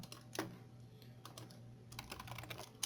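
Keys clatter on a computer keyboard in irregular bursts of typing while text is entered into a PHP page, close and moderately quiet, with no voices.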